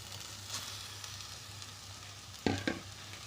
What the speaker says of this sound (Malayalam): നന്നായിട്ട് നമുക്ക് ഇതെല്ലാം കൂടി മിക്സ് ചെയ്ത് കൊടുക്കാം